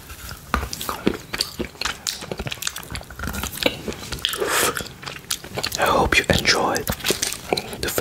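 Close, crisp chewing and biting of a key-shaped chocolate, with repeated crunchy mouth sounds and soft whispering in a quiet ASMR setting.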